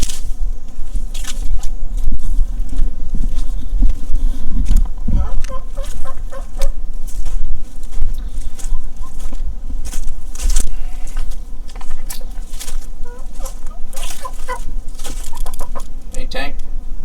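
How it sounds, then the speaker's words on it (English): A big white rooster and a group of chickens clucking on a rural property, repeated close clucks and squawks over steady outdoor background noise. "He's got a pretty cool rooster, big old white rooster."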